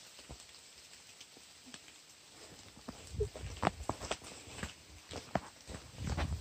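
Steady rain falls along the Appalachian Trail on a day of hiking toward Pearisburg, a soft constant patter with scattered heavier drops and footstep-like thumps growing busier in the second half, no talking.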